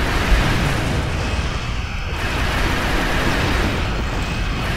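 Torpedo explosions in the video game Star Trek Online, a loud, sustained rumbling roar of blasts with a brief dip midway before the booming continues.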